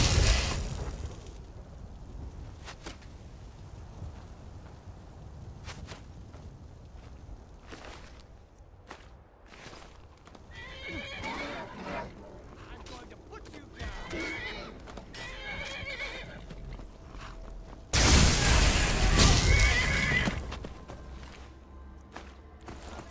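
A horse whinnies loudly over scattered hoofbeats and rustling, with a burst of loud noise near the end.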